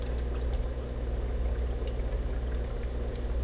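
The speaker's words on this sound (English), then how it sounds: "So we're gonna add some water here." Water pours steadily into a rotifer culture container, a continuous close splashing gurgle with an even, unbroken flow and no speech.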